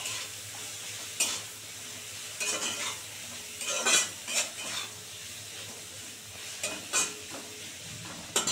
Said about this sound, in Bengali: দিয়ে এবার এটাকে ভালো করে সুন্দর করে ভাজবো।